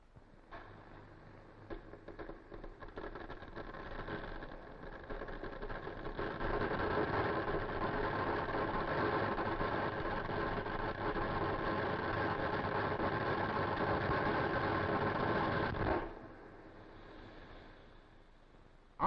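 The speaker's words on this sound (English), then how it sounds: "The weld commences." Pipe welding machine joining pipe ends in the 1940s, a steady mechanical hum and buzz that builds up, holds loud for several seconds, then cuts off abruptly, with no voices.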